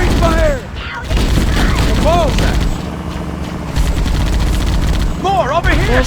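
Rapid bursts of gunfire and explosive booms from a Halo: Combat Evolved firefight, loud and continuous with rising whooshing sweeps over a dense battle backdrop and brief pauses between volleys.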